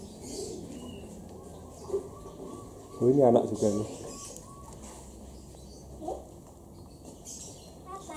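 Brief cooing and clucking calls from chickens and other birds rise over a noisy restaurant background, with a louder burst of calls in the middle, while people chat nearby.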